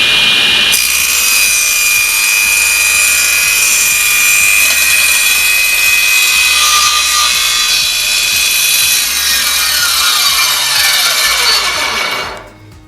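A SIP cast iron 10-inch professional table saw with a sliding carriage rips a straight cut in wood, a loud steady whining saw tone with a tonal blade ring that runs unbroken, then winds down and stops near the end.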